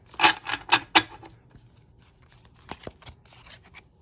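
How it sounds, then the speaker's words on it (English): Tarot deck shuffled in quick riffling bursts, four crisp card flurries close up, then quieter scattered shuffling taps toward the end. "So I'm going to just shuffle one more time"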